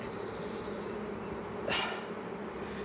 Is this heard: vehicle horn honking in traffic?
no